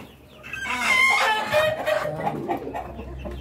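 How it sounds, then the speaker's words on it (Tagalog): A Rhode Island Red hen in a breeder cage clucks and calls at close range, its voice rising into a loud, throaty burst before trailing off into softer, broken clucks. "Ay, nangingitlog si Kumare."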